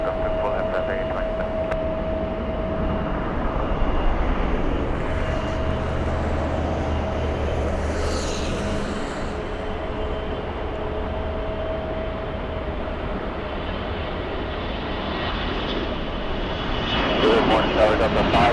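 Jet airliners roar steadily at Los Angeles LAX airport, a broad continuous engine rumble with a faint tone running through it. Air traffic radio voices talk over the noise.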